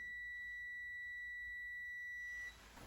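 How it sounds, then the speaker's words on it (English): A multimeter's continuity beep, a continuous electronic tone, holds steady for a couple of seconds during a fan relay bench test on a JZX100 with a Link ECU, then cuts off abruptly into quiet background noise. "I'm gonna put my multimeter in continuity beep mode."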